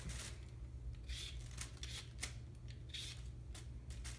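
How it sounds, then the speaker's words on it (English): Peeler scraping the skin off a piece of produce, heard as a series of short, soft rasping strokes in irregular rhythm over a low steady background hum, close by with no talking. "So you start peeling it."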